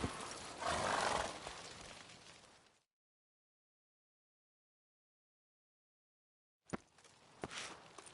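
In The Witcher 3: Blood and Wine, the horse Roach walks and whinnies: a close neigh and hoof sounds, then a long silence before hooves and movement pick up again.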